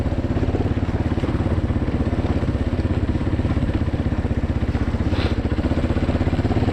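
Quad bike engine climbing uphill toward a summit, a steady, loud, close mid-pitched drone with a rapid pulsing rhythm and light clatter throughout, no talk.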